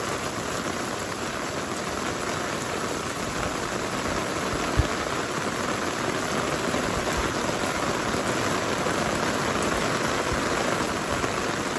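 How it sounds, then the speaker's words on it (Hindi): Heavy downpour drums constantly on nearby surfaces, a thick even roar of rain with one sharp knock midway and no talking. "बहुत तेज बारिश है इस वक्त।"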